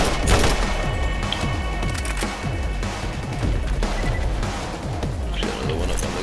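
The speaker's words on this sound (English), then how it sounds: "let's get some of these tranny grenades on the go" Transfusion grenades and gunfire erupt in the Borderlands video game, a dense, loud barrage of rapid shots and crashing impacts that repeats continuously with almost no pause.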